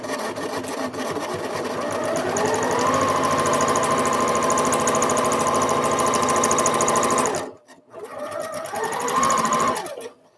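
A sewing machine stitches a skirt on, a loud close rapid mechanical whir that speeds into a steady run, stops abruptly near the end, then starts briefly again.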